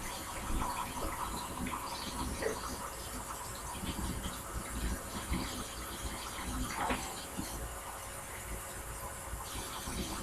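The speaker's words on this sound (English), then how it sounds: "I'm going to wash my hands." Water runs steadily from a tap, splashing with a broadband hiss while hands move under the stream; a few faint clatters in the background.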